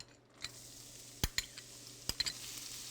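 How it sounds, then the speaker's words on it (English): Minced garlic sizzles gently in melted butter in a pan for garlic butter shrimp, a soft steady hiss punctuated by a few sharp clinks of a utensil against the pan. "Once the butter melts, we go ahead and add our garlic."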